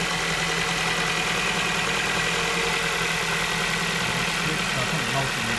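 A Ford Focus Mk2 from 2007, just fitted with a new alternator, runs at a steady idle, a dense continuous engine drone that holds level throughout at close range.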